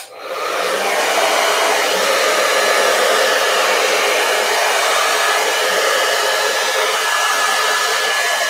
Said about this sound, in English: Okay, I'm gonna use my hairdryer.